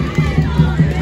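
A football crowd protesting during the Pernambuco Fut-7 championship final between Sesc and HS Aldeia, heard as a steady, fairly loud roar of massed voices with a low rhythmic pulse repeating about every fifth of a second.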